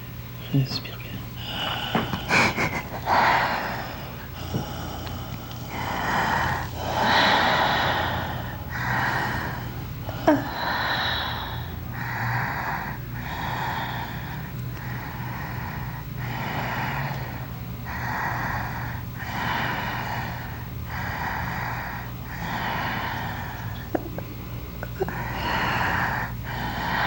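Heavy, forceful breathing during a breathwork session, with loud rhythmic inhales and exhales, some gasping and snorting, close to the listener and steady over a low hum.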